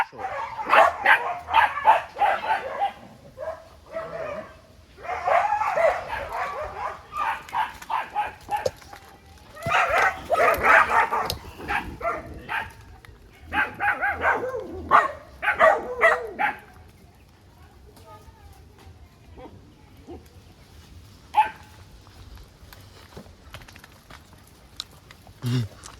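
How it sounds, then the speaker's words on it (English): Several dogs bark in repeated bursts as they rush out at a countryside home in rural Jamaica, loud yaps and bow-wows close by, with occasional whimpers and people talking in between. "that's the dogs they're rushing out"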